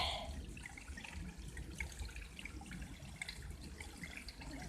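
Small stream of water trickling along an outdoor path near a culvert, a steady soft babble held at moderate distance with no voices.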